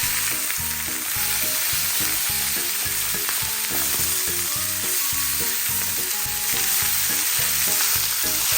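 Chicken pieces with skin fry in a pan, browning in fat rendered from the skin with little added oil, giving a dense, continuous sizzle that stays loud and close throughout, with no talking.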